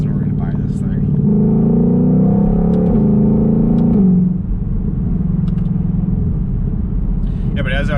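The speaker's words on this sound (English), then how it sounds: "the 7-speed dual clutch, you can hear it. It's basically just a tone change." A Shelby GT500 Carbon Fiber Track Pack with a seven-speed dual-clutch gearbox drones loudly from inside the cabin. The engine's pitch climbs, then drops sharply at a shift and settles into a lower rumble, with voices present.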